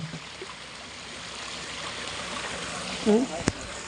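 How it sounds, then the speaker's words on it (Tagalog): Strong spring water rushes and gurgles in a continuous, close, even flow, with a brief voice and a sharp click near the end. "Ang lakas ng tubig, grabe."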